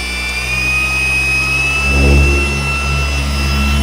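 An abrasive tool spins steadily at about 5,000 RPM, giving a loud, continuous motor whine with a brief swell in the middle and no talking.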